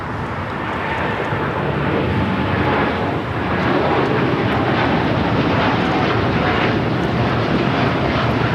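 An aircraft takes off at LAX, its loud continuous engine roar swelling slightly partway through and holding as a broad, powerful rumble with no other sounds standing out.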